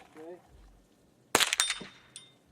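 A single sharp gunshot strikes a Plink Star high-caliber steel target, a loud crack followed by a short metallic ring, preceded by a faint voice in an otherwise quiet outdoor setting.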